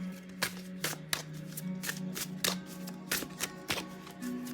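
Tarot cards shuffled by hand in a steady run of crisp riffles and taps, close and fairly quiet, with a faint steady hum underneath.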